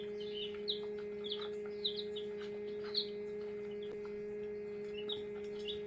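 Newly hatched chicken chicks in an incubator chirp in short, high peeps, repeating irregularly over a steady electrical hum, fairly faint and close.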